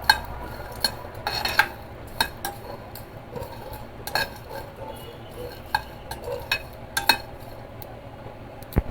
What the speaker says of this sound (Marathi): हा सगळा मसाला टाकायचा आहे आणि हा चांगला भाजून घ्यायचा आहे